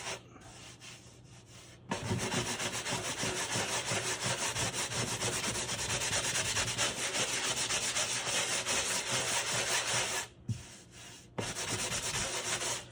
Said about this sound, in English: So again, I'm gonna sand it.